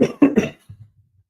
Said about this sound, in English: I can't cut that part about me coughing out